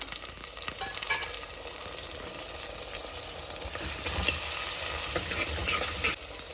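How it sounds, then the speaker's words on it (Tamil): Onion and tomato sauté in a pan for a mango kuzhambu, giving a steady, dense sizzle with occasional stirring scrapes that grows slightly louder near the end; no one speaks. "வெங்காயம் கொஞ்சம் நேரம் வதங்கட்டும் இப்போ இந்த கூட நம்ம ஒரே ஒரு தக்காளி சேர்த்திக்கலாம்"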